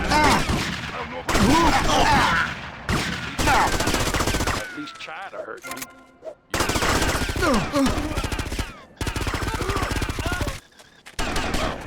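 Rapid automatic gunfire rattles in loud, dense bursts during a GTA Vice City mod game, broken by short pauses, with some voices mixed in.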